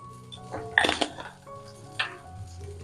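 Okra with turmeric powder and salt is stirred in a metal pot, giving a few quiet clinks and scrapes of a spoon against the pot's side, with short pauses between strokes.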